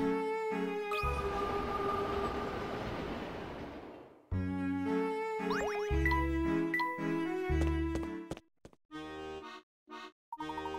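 Professor Layton and the Unwound Future soundscape: a bright shimmering chime passage gives way to rhythmic mechanical clatter and tones of a train ride, ending in choppy bursts and brief silences.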